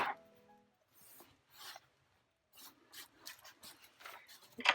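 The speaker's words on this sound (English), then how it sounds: "just start scraping it over" Paint scraped across a surface during an art session, soft intermittent rasping strokes, faint and close, coming in short separate passes with quiet gaps between them.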